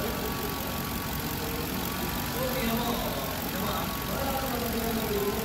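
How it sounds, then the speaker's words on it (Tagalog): A Ford Crown Victoria V8 runs at a steady idle, its constant broadband drone holding an even level throughout, with faint voices and background noise mixed in. "Ganda na talaga ang andar ng D8 na Crown Victoria,"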